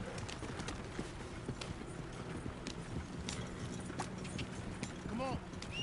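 Horse hooves clip-clop steadily in Red Dead Redemption 2 as the rider travels, a continuous rhythmic trot mixed with game ambience and occasional voices speaking over it.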